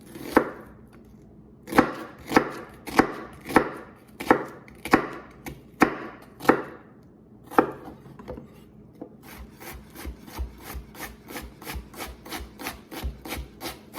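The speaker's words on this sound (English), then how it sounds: "we're gonna start off with just dicing some onion" Knife dicing onion on a cutting board for a breakfast burrito, a run of crisp, evenly spaced chops up close, slowing at first and then turning into a faster, lighter steady rhythm, with no talking.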